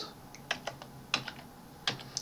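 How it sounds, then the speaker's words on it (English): Keys on a computer keyboard are pressed in a spreadsheet, mostly the tab key, giving a handful of sharp, close clicks at irregular intervals with no talk. "I am finish entering information in these cells by using tab key from keyboard."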